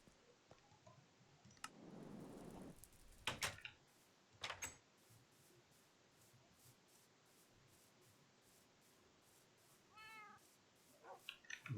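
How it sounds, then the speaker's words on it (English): Cats meow in the Minecraft video game, with several short, quiet mewing calls spread across a soft, low background, along with a brief rustling patch and a few light clicks. "Meow to you too, cats."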